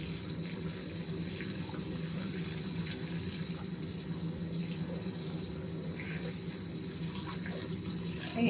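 Hot water runs steadily from a tap into a sink for hand-washing travel laundry, a constant close splashing rush with no talking.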